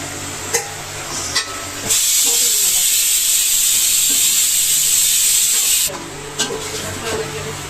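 Chicken pieces hit hot oil in a pan while cooking for a chicken biryani, raising a loud, steady hiss and sizzle for about four seconds, with quieter kitchen clatter before and after.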